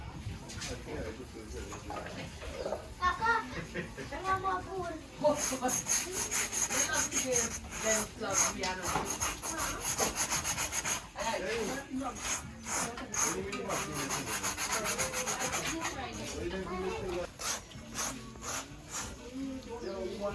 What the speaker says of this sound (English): When you scrape that off, this is the dust from it.